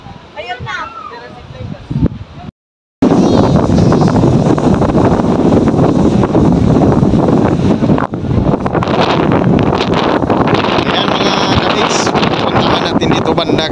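Strong wind at Vintar Dam in Ilocos Norte buffets the microphone with loud, roaring gusts that run almost continuously after a brief dropout near the start.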